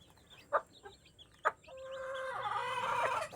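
Chickens in a rural province yard cluck with a few sharp calls, then a longer crowing rooster call rises over the last second and a half, fairly close with a faint outdoor background.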